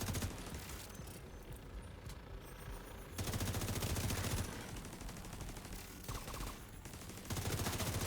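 Dense gunfire in a video game, with bursts of rapid automatic shots and heavy blasts that surge and ease in waves, loud and continuous without any talking.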